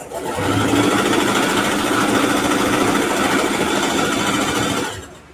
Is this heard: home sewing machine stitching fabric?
yes